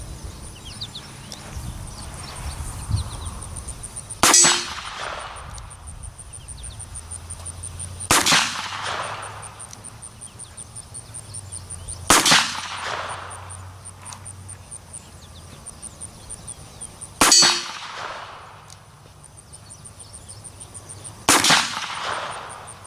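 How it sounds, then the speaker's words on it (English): Five loud, sharp gunshots from a Smith & Wesson Triple Lock revolver ring out outdoors, spaced about four seconds apart, each with a ringing decay and quiet pauses between. "we're going to take a couple more shots with the triple lock"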